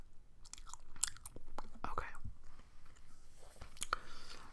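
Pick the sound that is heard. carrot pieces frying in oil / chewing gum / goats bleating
chewing gum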